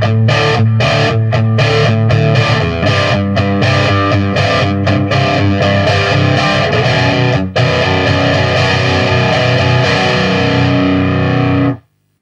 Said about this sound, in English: that is essentially the power chord shape at its lowest form, just without that low E